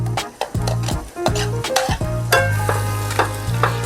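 Masala paste made from tomatoes and spices being stirred in a frying pan, loud close sizzling with repeated scraping and clanking strokes of a spoon against the pan in an uneven rhythm.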